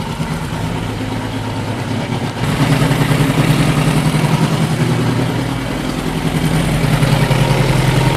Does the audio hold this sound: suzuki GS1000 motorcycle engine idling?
yes